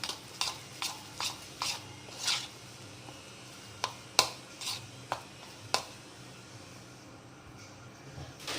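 A spoon stirs egg fritter batter in a bowl, giving a series of soft, separate wet clicks and scrapes at an uneven pace, close and fairly quiet.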